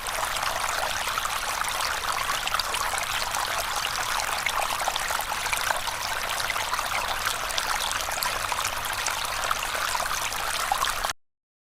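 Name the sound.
water pouring into a tub for an aquarium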